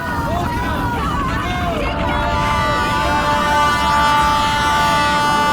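A train rumbles past in a horror drama scene, a continuous loud roar with metallic squeals and tonal screeches, overlaid by a babble of voices.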